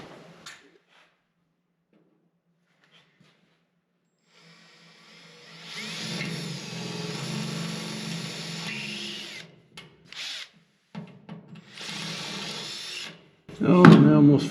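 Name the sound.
power drill drilling holes in 1955 Chevy Nomad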